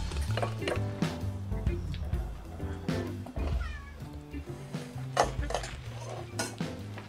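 A crowd of about 26 house cats meow and yowl at thirteen feeding bowls, with repeated overlapping cries over steady clinking of dishes and bowls and occasional nearby human voices.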